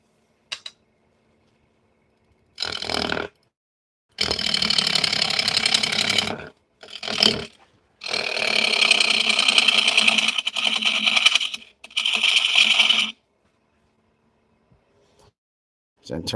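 A 12 by 18 metal lathe running in bursts, each a loud, dense whine-and-rattle lasting one to four seconds, separated by short silences, with a faint start and end.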